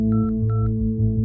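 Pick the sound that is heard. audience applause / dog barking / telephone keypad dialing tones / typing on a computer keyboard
telephone keypad dialing tones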